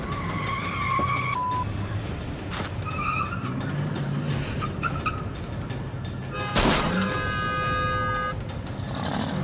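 A sports car fleeing a roadside scene, its tires squealing in repeated skids as the engine revs and pulls away, loud and close, with shouting voices and street commotion around it.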